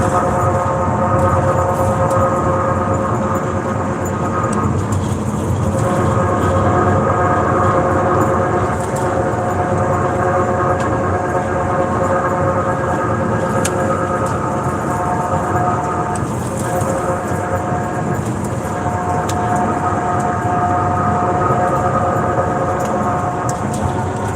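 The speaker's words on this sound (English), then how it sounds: "the ass end of this van is making a racket on this road" Loud, continuous rattling and rumbling of a van on a rough road surface, the rear end making a steady heavy drone with clattering that never lets up.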